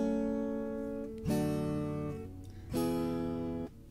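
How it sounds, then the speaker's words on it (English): Guitar chords struck with single down-strums, each one left to ring: a fading chord, then two more strong strikes spaced over a few seconds, close and clear. "the next thing that we could do is just strum down each chord"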